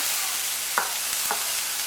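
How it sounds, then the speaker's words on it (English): Onions sizzle in hot olive oil with a constant soft frying hiss, broken by a couple of quick stirring scrapes near the pan. "We want to fry our onion for 2 to 3 minutes."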